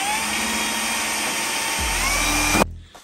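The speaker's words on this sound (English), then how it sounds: "And that's what we're doing, is just drilling holes for the pilots" A power drill whines steadily, boring pilot holes through sheet metal on a Mazda B2200 pickup, then winds down and stops abruptly near the end.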